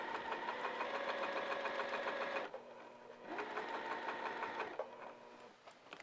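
A sewing machine stitches fabric pieces for a heart-shaped potholder, whirring in a fast even rhythm, stopping briefly, running again, then pausing once more; close and fairly quiet.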